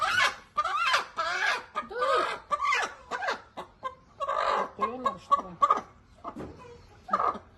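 Blue-egg-laying hens cluck repeatedly up close in a lively, uneven series of short calls with brief pauses between them.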